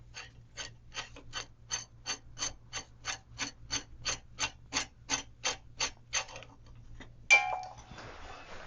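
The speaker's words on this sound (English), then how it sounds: "So we just need to unscrew this bolt here" A bolt on a 1975 Matthews Monoshock bicycle frame is undone with a ratchet, giving about twenty steady, evenly spaced clicks at close range, then a short pause and a sharper clack of metal.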